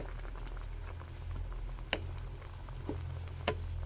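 Pork belly adobo with shrimp simmering in a pot, soft continuous bubbling and light liquid patter close by, with a few sharper pops over a low steady hum.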